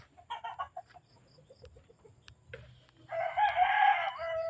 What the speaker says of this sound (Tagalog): Marami silang alagang manok dito.